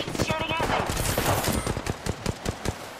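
Rapid automatic weapon fire in Apex Legends rattles off in fast, loud, close bursts over about three seconds, with a voice talking over the shots.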